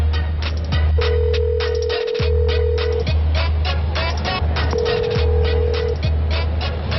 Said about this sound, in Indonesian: Wait, gue telepon dia.